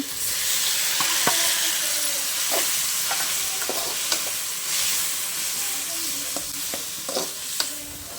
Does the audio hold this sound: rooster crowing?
no